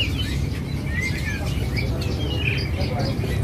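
A caged songbird at a bird-selling kiosk gives short, high chirps and tweets at irregular intervals over a steady low background hum, with people talking nearby.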